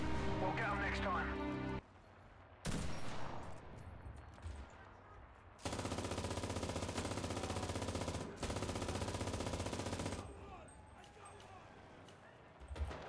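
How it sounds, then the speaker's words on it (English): Mounted machine gun firing in the WWII shooter Enlisted during an Al Har defence, sustained loud bursts of automatic fire with short gaps between, mixed with other battlefield shots and some talk. "We're going to overcook this MG before he takes us out, though."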